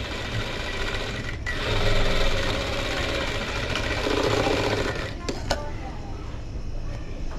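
Sewing machine stitching a round collar neck dress, a continuous steady mechanical whirr that rises slightly midway, with a couple of brief clicks near the end.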